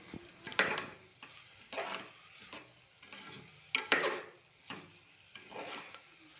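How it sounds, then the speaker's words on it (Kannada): Rice with vegetables and spices for veg pulao is stirred in a pot, giving five or six close scraping, sizzling sweeps of a spoon at an even, unhurried pace, with no talking. "ಈಗ ಈ ಅಕ್ಕಿ ಎಲ್ಲ ತರಕಾರಿ ಮತ್ತು ಮಸಾಲೆ ಜೊತೆ ಚೆಂದಾಗೆ ಮಿಕ್ಸ್ ಮಾಡ್ಕೋಬೇಕ್ರಿ."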